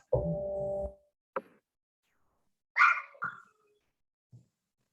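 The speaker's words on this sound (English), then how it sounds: "I hear a puppy in the background." A puppy snuffles and makes small noises in the background, faint and intermittent in a quiet room.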